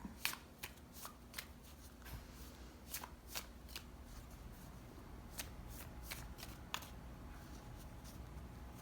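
A deck of tarot cards is shuffled over and over, crisp riffling snaps and flicks repeating at a quiet, close, uneven pace without speech.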